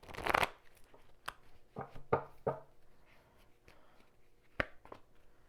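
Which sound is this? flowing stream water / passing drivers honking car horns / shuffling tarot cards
shuffling tarot cards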